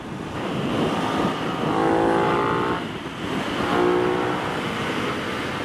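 An Aprilia motorcycle, a 2021 RS 660 or Tuono V4 1100 Factory, drops through gears on a ride, its engine note rising and falling in loud rev swells against steady wind rush.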